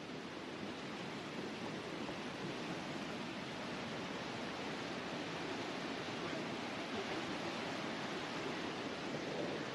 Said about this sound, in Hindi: ये साथ साथ देखते हैं पानी का झरना